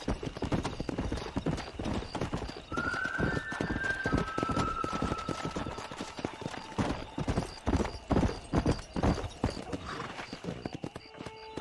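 Horse galloping in the Western video game Red Dead Redemption, a steady rapid clip-clop of hooves throughout, with a short whinny early on and game ambience underneath.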